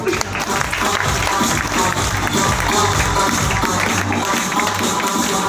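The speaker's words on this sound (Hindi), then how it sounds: "तो आपके लिए फिर जोरदार तालियां।" An audience at a seminar breaks into loud, sustained applause, dense clapping that fills the whole stretch without letting up.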